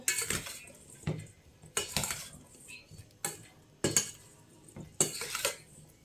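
A spoon clinks and scrapes against a bowl while fruit chaat is stirred with masala, making sharp, irregular knocks about once a second with soft rustling in between. No one speaks.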